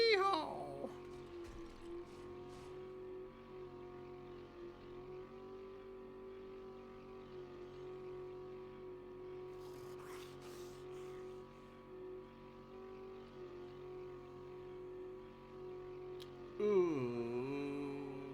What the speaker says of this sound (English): My supercharged 4x4.